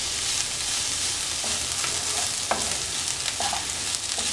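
Spring roll vegetable filling with a little coriander leaf is stirred in a hot pan, producing a constant close sizzle broken by a few sharp scrapes and taps of a spoon.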